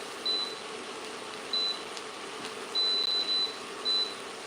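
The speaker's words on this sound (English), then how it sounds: "let's put a timer on for 8 minutes" Kitchen timer beeping as it is set while making espagnole sauce and chips: a series of short high electronic beeps, singly and in quick runs, close and clear over faint room hum, with no talk.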